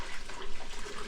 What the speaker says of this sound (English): Coffee, cinnamon, I'm adding my water.